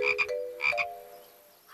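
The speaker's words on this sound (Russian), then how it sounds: "Эй, это же просто лягушка!" Frog croaking in a children's cartoon, two quick double croaks close together, near and clear, then silence.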